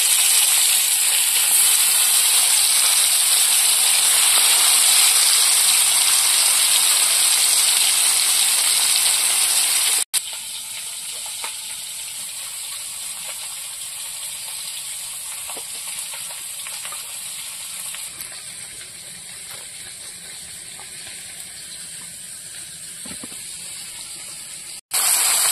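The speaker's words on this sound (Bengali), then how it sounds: "এবার মাছগুলো ভেজে নেব।" Spiced hilsa fish tails coated in salt, turmeric and chili powder frying in hot oil: a loud, steady sizzling hiss that drops to a quieter, continuous crackle partway through, with no talk.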